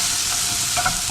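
Onion frying in butter in a pan, a close, loud, steady sizzle with a soft stirring scrape near the end.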